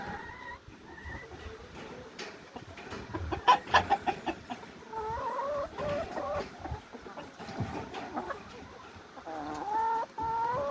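Several hens cluck and murmur nearby in a henhouse, with overlapping chatter and a few louder squawks, continuous throughout at moderate volume.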